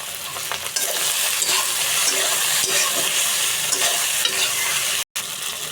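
Pasta is tipped into a frying pan of cooked ingredients and stirred, giving a steady, loud sizzle with scraping stirs throughout and a brief gap near the end.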